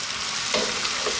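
Garlic, cabbage and potatoes fry in a pan with a steady bright sizzle, while a couple of soft stirring scrapes rise briefly through it, up close with no voices.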